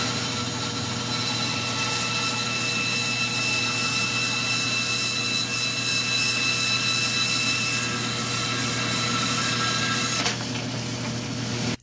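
Steady, loud, continuous grinding of a saw cutting a piece off a deer antler for jewelry, close and unbroken, stopping abruptly near the end.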